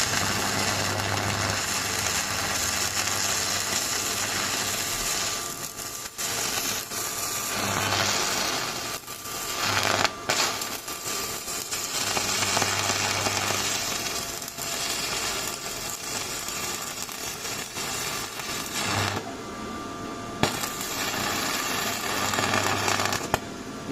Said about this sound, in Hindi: हम पूरा राड चलाएंगे ताकि पता चले हमें मशीन की क्वालिटी का